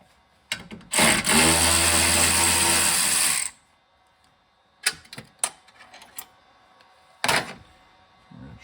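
A power tool runs in one loud sustained burst of about two and a half seconds while removing radiator support bolts on a 2010 Toyota Camry SE. Scattered clicks and clanks of handled parts follow.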